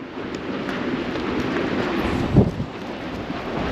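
Outdoor wind buffets a microphone in a steady low rumbling roar, with one brief stronger gust midway.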